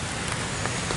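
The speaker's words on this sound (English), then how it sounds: "It's fucking raining hard as hell." Heavy rain pours down in a steady, dense hiss of drops hitting surfaces, close and loud with no voices.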